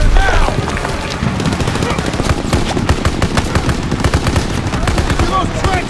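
Dense World War II battlefield gunfire from the Call of Duty WW2 video game: sustained automatic bursts and rapid rifle shots with booming impacts, loud and continuous throughout, with voices mixed in.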